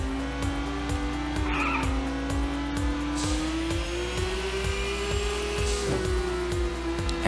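Racing cars in the top-down video game Little Racers STREET, a steady engine drone rising gradually in pitch with faint tire squeals, running continuously and loud throughout with no talk.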